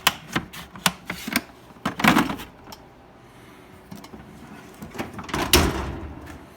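A drawer on a Harbor Freight 72-inch tool box sliding along its runners, with close metallic clacks and a rolling rumble as it moves, then knocks as it shuts.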